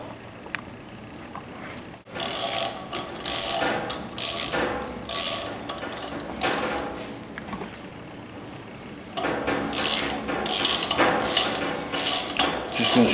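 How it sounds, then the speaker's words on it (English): Bursts of a power drill grinding into a spark plug hole in short and longer spells, with mechanical ratcheting and clanking between, close by and fairly loud. "So let's drill some more."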